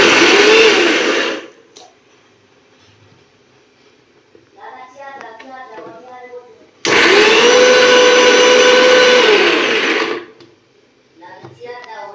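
A mixer grinder whirs loudly in two bursts, a short one and a longer one, with a person talking in the quiet gap between them.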